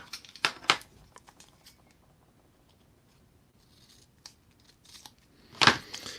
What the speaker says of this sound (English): I'm going to grab some blue tape, and I'm going to cut it out to fit the shape